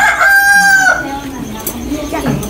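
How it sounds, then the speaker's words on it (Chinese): A rooster crows once nearby at a Dai village in Xishuangbanna, Yunnan, a loud drawn-out call in the first second, followed by softer clucking and faint background voices. "这个是鸡叫的"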